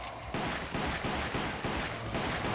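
Rapid video game gunfire aimed at Hunk, a dense run of shots in quick repeated bursts with hardly a pause, loud and close.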